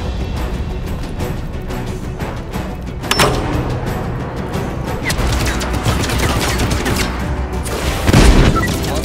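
Gunfire and explosions from the open-world video game Just Cause 3, a dense continuous barrage of shots with louder booms near the start and end.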